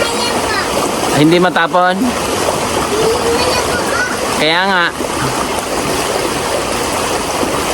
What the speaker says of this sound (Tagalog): Maririnig mo yung kaluskos ng tubig